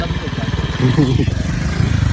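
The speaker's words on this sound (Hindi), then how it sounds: "तो यहाँ पे मतलब रेत थोड़ी सी बैठी हुई है तो बड़ा इजीली जो है ना मोटरसाइकिल मूव कर सकता है" Motorcycle riding over soft sand on the bank of the Chenab River, its engine chugging at a steady mid pitch beneath someone talking throughout.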